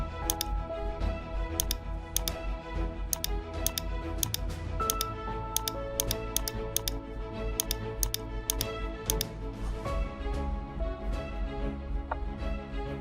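Computer keyboard arrow keys pressed repeatedly, quick clusters of sharp clicks in an uneven rhythm over a steady low background hum, no talking.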